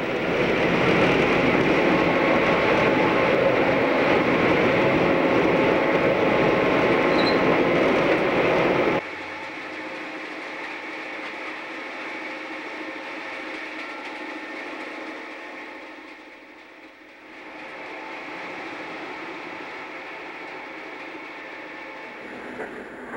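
A train accelerates out of Truckee on snowy Donner Pass past parked SD-40 diesels and cabooses, its loud rumble and rattle filling the first stretch before dropping to a quieter, steady rolling hum with a brief dip.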